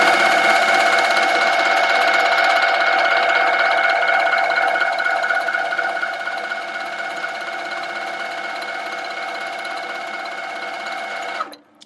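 A Handi Quilter Sweet Sixteen sewing machine stitching at a fast, steady pace, a continuous close whirring hum that runs throughout without talk and cuts off sharply at the end.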